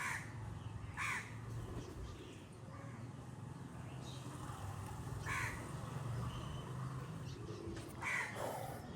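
Birds call at a pigeon market, with several sharp, distinct cawing bursts spaced over a constant low background hum and murmur, faint and somewhat distant.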